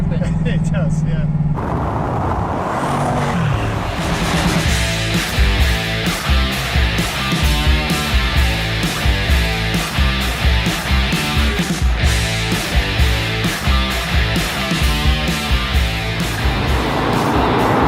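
A Bugatti Chiron Sport engine revs hard in a series of sharp, rhythmic bursts, with a quick rushing release of air at the start, loud and close, while people talk.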